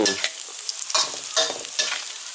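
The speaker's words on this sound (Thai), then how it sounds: "คั่วต่อไปอีกหน่อยหนึ่งเพราะว่าน้ำมันยังร้อนเดี๋ยวพริกจะไหม้ครับ" Pork stir-fries with shrimp paste and chillies in a hot pan, making a bright crackling sizzle with regular scraping strokes of a spatula, close and steady.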